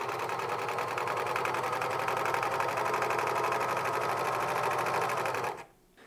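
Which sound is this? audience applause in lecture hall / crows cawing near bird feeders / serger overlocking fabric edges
serger overlocking fabric edges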